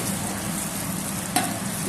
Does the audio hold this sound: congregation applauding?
no